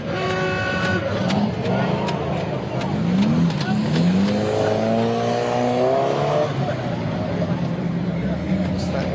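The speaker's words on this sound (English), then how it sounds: "Oh, here's a nice lifted truck. Look at that one. Supercharged Chevy truck." A supercharged lifted Chevy truck at a spring car cruise in Redding rumbles and revs with rising engine pitch amid busy street noise, while people talk over it.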